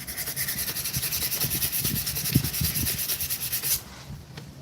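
Steady rhythmic rubbing of sandpaper on bamboo by hand, back-and-forth strokes close by, stopping near the end.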